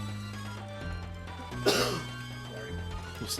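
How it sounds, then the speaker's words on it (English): A single short cough over a steady background hum with sustained musical tones. "fighting a little bit of a cold too, so if you hear me cough"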